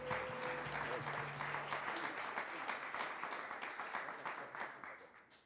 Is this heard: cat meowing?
no